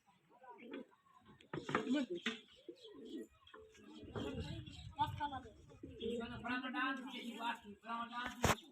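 A fighter pigeon coos in repeated soft, rolling calls close by, with people talking over and between the coos.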